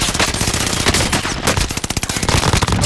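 Rapid automatic gunfire in a video game on the Caldera map, loud, dense bursts of rattling shots fired in quick succession, tightening into a fast, evenly spaced volley near the end.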